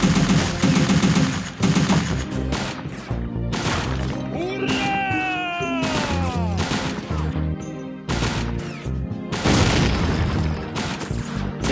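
Grenade explosions and gunfire in the WWII strategy game Faces of War: dense, loud bursts of shots and booms that keep going across the whole stretch, with a whistling, descending effect partway through.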